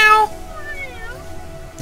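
Cat meowing in the video game Little Witch Nobeta, a short close meow at the start, then quieter game ambience with faint tonal sounds.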